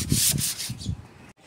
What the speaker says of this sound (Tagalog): Pasa-pasa liha lang po, patanggal lang yung mga himulmul ng